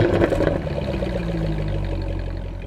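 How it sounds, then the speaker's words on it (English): A supercharged V8 in a Jaguar F-Type R flares at start-up with a brief loud growling rev, then settles into a rumbling idle that fades slightly over a couple of seconds, heard at an auto show. "The F-Type doesn't have to rev and growl its engine like that when you start it up"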